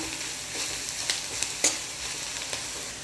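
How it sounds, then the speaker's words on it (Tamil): Spice masala with a little turmeric sautéing in oil, a steady soft sizzle with a few brief sharper crackles, close and fairly quiet, no voices. "மசாலாவோட பச்சை மணம் போகிற அளவுக்கு இந்த எண்ணெயில் நல்லா வதங்கட்டும்."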